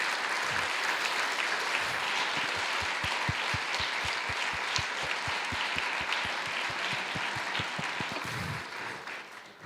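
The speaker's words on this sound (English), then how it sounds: "could we give them a round of applause" A conference keynote audience gives the organizing committee a round of applause, sustained dense clapping filling the hall for several seconds before tapering off at the end.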